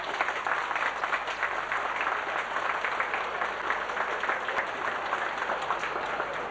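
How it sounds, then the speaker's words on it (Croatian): Sustained applause from a crowd at a celebratory lunch gathering, a dense steady clatter of many hands clapping together, loud and close throughout, with no talking over it. "Budete li tako pljeskali"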